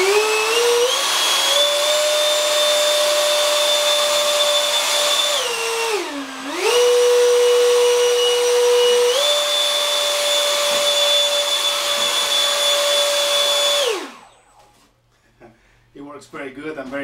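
RC plane thrust vectoring system running loudly, a steady high motor whine that dips briefly in pitch midway, then winds down near the end, with someone speaking underneath and after.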